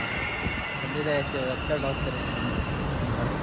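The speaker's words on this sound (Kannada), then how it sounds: "ಇಲ್ಬಾರಿ ಟ್ರೈನ್ ಬಂದೈತೆ" A train rumbles steadily into a station with a constant low roar and a thin high-pitched wheel squeal, up close and continuous, while a person talks over it.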